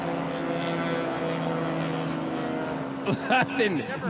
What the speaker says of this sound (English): Listen to this. 300 plus horsepower Yamaha Apex engine.